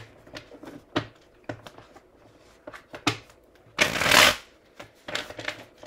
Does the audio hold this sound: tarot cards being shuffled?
yes